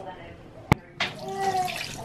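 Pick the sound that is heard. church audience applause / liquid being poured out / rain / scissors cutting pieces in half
liquid being poured out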